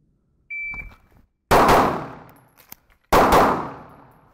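Pistol shooting drill: a short electronic shot-timer beep, then a sharp, loud gunshot with a decaying echo. After a pause for a reload with faint handling clicks, a second sharp report rings out.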